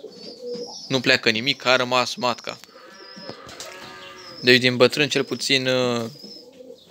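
Pigeons coo steadily in a breeding loft behind someone talking in Romanian, their soft warbling calls running through the pauses in his speech.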